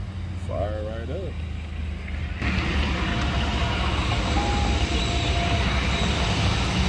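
A Chevy Avalanche engine cranks and fires up outdoors in cold weather, then settles into a steady, loud idle rumble that continues to the end, with a brief voice heard beforehand.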